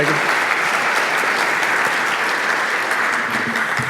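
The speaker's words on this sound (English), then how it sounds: "can we get a round of applause for all the people who've been contributing to glTF?" A conference audience at a SIGGRAPH session applauds glTF contributors with dense, loud, continuous clapping that fills the room throughout.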